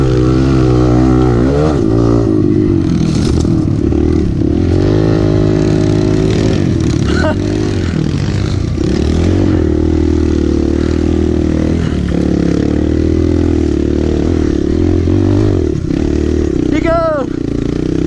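An enduro motorcycle engine on a dirt track drones loud and close, its pitch climbing and falling through repeated revs, with people talking and shouting over it.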